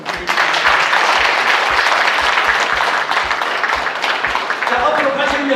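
A crowd claps at the opening ceremony of the Busan Art Association's 80th anniversary exhibition. The applause is loud, full and continuous, with muffled voices and a few low thumps under the clapping.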